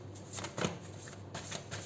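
Quick riffling of tarot cards being shuffled, a few crisp bursts in succession, close and clear with no talking.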